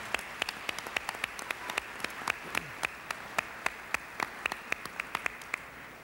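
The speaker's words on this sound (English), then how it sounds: "Please give them all a round of applause." Applause from a small audience at an awards ceremony, sparse separate claps at an irregular pace over steady room noise, fairly faint.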